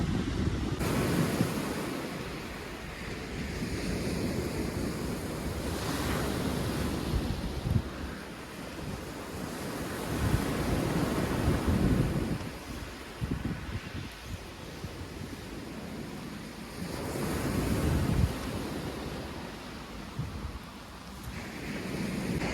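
Sea waves break and surge in slow swells onto Preston Beach at Weymouth while strong wind buffets the microphone, a loud continuous roar with no voices.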